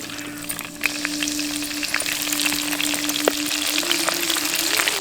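Cumin seeds and green chillies fry in hot oil with a bright, crackling sizzle that grows busier and steadier over a few seconds, close and alone, with no voices.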